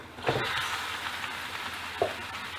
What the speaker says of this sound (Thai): จากนั้นก็ใส่หมูสามชั้นลงไปผัดได้เลยค่ะ